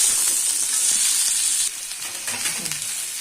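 Pumpkin and drumstick pieces sizzling in a hot pan, a dense crackling hiss that runs throughout, dipping briefly as the food is stirred, with no talking.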